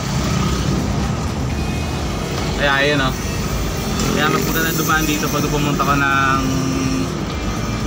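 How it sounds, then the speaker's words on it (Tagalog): Steady road traffic rumble heard from inside a moving car on the C6 road in the Philippines, a constant engine and tyre drone with a person talking over it throughout. "Medyo mahaba yung traffic."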